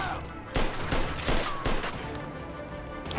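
Several gunshots crack out in Mafia 2 Definitive Edition, four loud reports spaced about half a second apart over steady background noise.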